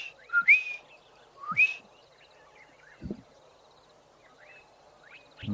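Clear whistled southern boubou calls outdoors in Africa, a few liquid ringing notes in separate bursts, with faint background chirps and soft knocks.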